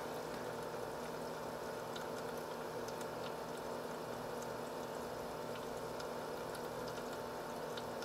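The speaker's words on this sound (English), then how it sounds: "I'm not sure how long this trickling is going to last" Steady, continuous trickle of water running through a PC liquid-cooling loop with a faint bubbling hiss, constant and unbroken throughout, no voices.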